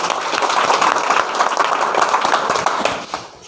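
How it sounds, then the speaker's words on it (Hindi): Audience applause at a business meeting, dense steady clapping from many hands filling the room throughout, tapering slightly at the end. "और आज गौतम जी के प्लान के लिए ज़बरदस्त एक बार पुनः तालियां हो जाएं"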